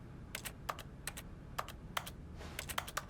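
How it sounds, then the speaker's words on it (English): Keyboard keys are tapped in the video game The Stanley Parable, a close, steady series of light clicks in small uneven clusters over faint background hiss, with no talking. "You get like a little clicking sound no matter what you do"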